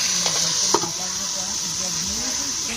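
Prawn curry with vegetables, turmeric and salt sizzles steadily while being sautéed in a pan, with a sharp utensil knock near the start. A voice talks softly underneath.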